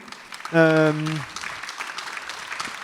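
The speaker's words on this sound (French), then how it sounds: "je vous propose qu'on applaudisse, qu'on félicite un petit peu tous les intervenants de la journée" A brief voiced tone opens, then the audience at a round-table conclusion session claps for the day's speakers. The clapping is moderate and even, continuing to the end.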